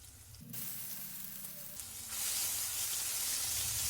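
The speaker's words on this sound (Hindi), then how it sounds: "अब हम इसमें 1 टेबल स्पून अदरक लहसुन का पेस्ट डाल देंगे" Ginger garlic paste hits a hot pan of oil with lightly fried green chillies over medium heat, bursting into a loud, steady hissing sizzle halfway through after a quieter simmer.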